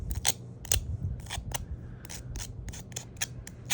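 Paper edges being sanded, giving a quick series of close, dry scratchy strokes, about ten short bursts in a loose rhythm over a low background rumble.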